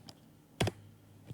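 A short burst of computer keyboard typing enters a command to run a Streamlit app in Python. It comes as one quick cluster of close, crisp clicks over a quiet background, with no voice.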